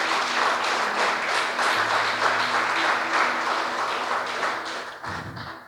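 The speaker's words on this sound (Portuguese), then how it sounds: "Agora aplauda o Senhor bem forte" A church congregation applauds loudly in a dense, sustained wave of clapping that holds steady for several seconds, then thins out toward the end with a low thump.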